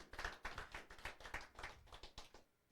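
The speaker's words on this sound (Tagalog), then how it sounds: "isa pang malakas na palakpak para sa Panginoon" Congregation clapping at a Korea church worship service, rhythmic claps in steady beats for about two seconds, then fading to near silence.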